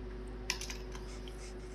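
Keys tapped on a computer keyboard while typing a search word, a short burst of a few quiet clicks over a steady electrical hum, with no voice.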